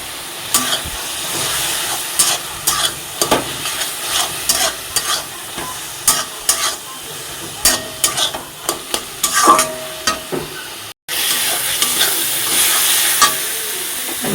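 Fried prawns being stirred into a curry in a pan produce a run of close, rhythmic scraping and clanking spoon strokes over a sizzling background, with a brief cut near the end followed by louder steady sizzling, and no talking.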